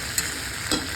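Half-boiled potatoes being stirred and sautéed with chicken in a pan for homemade chicken rice: a steady frying hiss with two brief spoon scrapes, close by.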